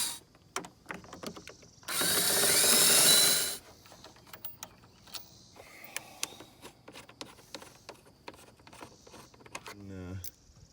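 Ratchet wrench removing 13 mm bolts from the upper radiator shroud of a Ram truck, quick clicking ratchet strokes and a burst of loud power-tool whir, with someone talking between them.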